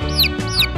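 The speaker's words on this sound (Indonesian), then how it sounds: "Lucunya, itu anak ayam." Two quick, high, downward-sliding peeps from a small chick, close and clear, with a short gap between them.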